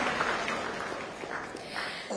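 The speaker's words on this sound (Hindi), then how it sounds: "जोरदार तालियां हो जाए" Applause from a studio audience welcoming a guest on stage at a televised Hindi political forum, a steady wash of clapping lasting a couple of seconds.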